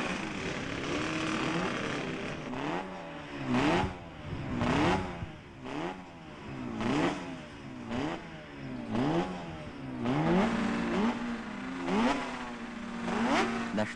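Grand prix racing motorcycles scream past one after another, their engine pitch sweeping up and down in repeated passes, loud and close, with a narrator speaking over the racket.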